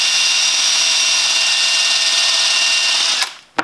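A power drill spins continuously to trim .223 brass cases, giving a loud, steady high-pitched whir for about three seconds before it cuts off abruptly.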